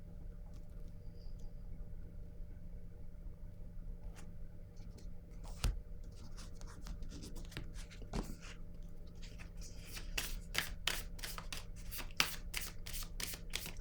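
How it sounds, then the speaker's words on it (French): During a card reading at a table, cards are quietly handled and set down with soft taps, ending in a run of quick, crisp shuffling flicks in a still room. "Je vais déposer une carte ici."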